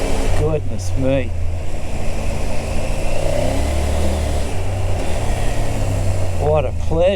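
Dirt bike engine on a trail, running in a constant close drone with slight rises in pitch, while someone speaks over it throughout.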